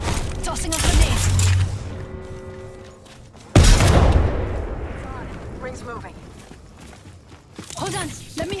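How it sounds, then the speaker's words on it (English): Grenade blast in the battle royale shooter Apex Legends, a loud sudden boom mid-clip amid bursts of gunfire and rumbling, with game voice lines spoken over the action. "Tossing a grenade."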